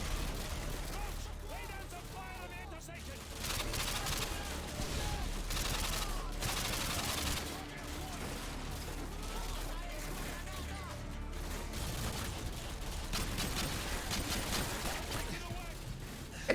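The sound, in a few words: gunfire in video game Modern Warfare 2 campaign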